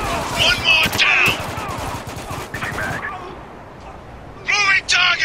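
Gunfire laid down as cover fire in the game Spec Ops: The Line, with loud bursts and rattling shots mixed under shouted voices, then a quieter gap and a final close burst.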